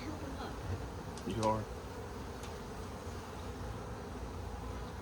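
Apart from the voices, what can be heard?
honey bees buzzing around hive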